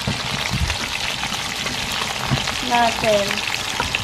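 Banak fish frying in a pan of hot oil gives a continuous loud sizzle and crackle with scattered pops, while someone talks briefly near the end.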